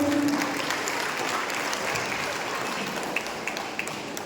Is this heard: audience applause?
yes